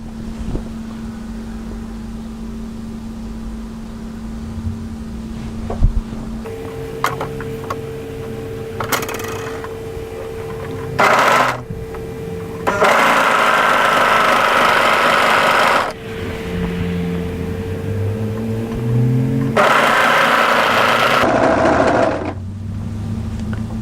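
Overlocker sewing a seam on a button-up hooded A-line jacket, then chaining off: bursts of fast motor whir switch on and off across the clip, loud and close, with quiet pauses and handling between runs.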